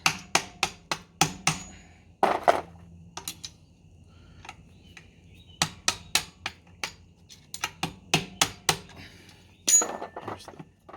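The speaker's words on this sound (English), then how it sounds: "All you have to do is just drive the pin out." A motorcycle footpeg pin, on a Faast anti-vibration peg, being driven out with a hammer: sharp metallic taps in quick bursts separated by pauses, close and clear.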